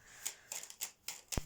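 Tarot cards are shuffled close to the mic, giving four or five short, soft riffling bursts with brief gaps, faint and with no talking.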